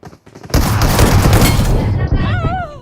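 Gunfire in a mobile shooting game, likely the game's Wow Mode: a dense burst of rapid shots and booms lasting about a second and a half, loud and close, with voices talking over it.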